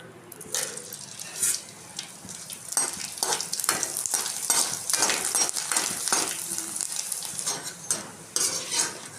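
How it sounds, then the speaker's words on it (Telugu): Curd chillies and vadiyalu fry in hot oil with a steady crackling sizzle, broken by repeated close scrapes and stirs of a utensil in the pan throughout. "కొంచెం సలమిరపకాయలు అయితే వేయించుతున్నాను"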